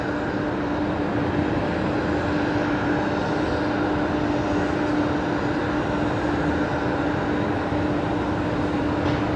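A Royal Australian Air Force KC-30 tanker at Brisbane Airport, heard as a steady, loud jet engine roar with a faint high whine that holds evenly throughout.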